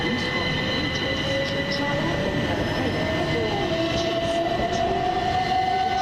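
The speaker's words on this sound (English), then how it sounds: "This is going to be the East Grinstead train to London Victoria. 377163 leading away." Southern Class 377 unit 377163, bound from East Grinstead to London Victoria, pulls away from East Croydon with a loud, steady traction whine that rises in pitch over a constant rolling rumble, close and continuous.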